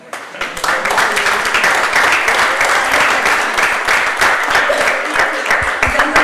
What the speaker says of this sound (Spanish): yo le pido otro aplauso a las tres